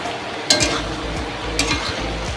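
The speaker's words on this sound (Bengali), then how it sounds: "আলু আর পেঁয়াজটা একসঙ্গে ভেজে নিচ্ছি" Whole potatoes and onions fry together in a pan with a continuous close sizzle, broken by a couple of sharp clinks and scrapes as the spatula stirs.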